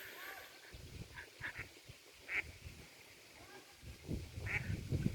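Ducks quack on a small lake in short bursts here and there over a busy outdoor background, with low rumbling and some distant voices; calls fairly faint and scattered.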